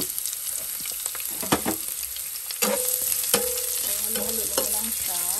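Chopped garlic and onion fry in hot oil in a pan, a steady crackling sizzle broken by several sharp scrapes and clatters of a spoon stirring, close and fairly loud with no talking.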